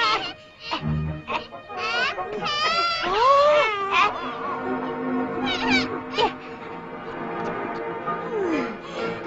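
A cat meows repeatedly with drawn-out, wavering cries, mixed with shouting voices in the background.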